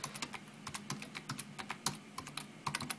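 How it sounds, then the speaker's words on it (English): Rapid, uneven keystrokes on a computer keyboard, close and fairly quiet, with short bursts of clicking and small pauses throughout. "I'm typing in a comment and,"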